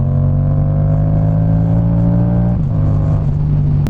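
Yamaha MT-07 twin-cylinder motorcycle accelerating in a lower gear, heard loud and close from the rider's position: a steady throaty engine drone rising in pitch, then a brief dip as it shifts.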